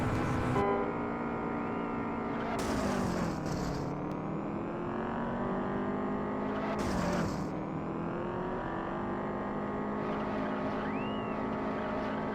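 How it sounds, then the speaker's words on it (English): A Subaru Impreza racing in the video game Juiced with nitrous boost engaged, a loud sustained engine roar with shifting pitch, dropping at gear changes and rising again, with bursts of hissing boost and scraping noise. "I'm going to use the rest of my nitrous here before this wall grind"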